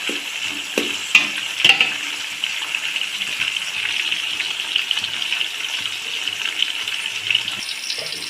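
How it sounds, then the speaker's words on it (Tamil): Onions frying in a pan for mutton biryani, a continuous hissing sizzle held at a steady level, broken early by a few clanks of a stirring utensil. "இப்போ இந்த வெங்காயம் நல்லா கலர் மாற வரைக்கும் நம்ம வதக்கணுங்க"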